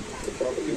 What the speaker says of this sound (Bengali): সুস্থ সবল কবুতর।